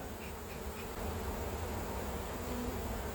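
Honeybees swarm around an open hive during a honey harvest, a dense, continuous buzzing drone from many insects close by.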